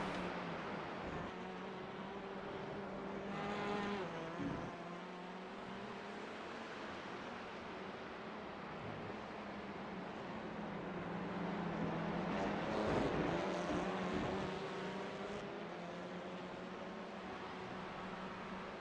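Touring cars race in a sim racing game, a pack of engines droning steadily with rising and falling pitch as they pass through gears, loud and continuous with no talk over them.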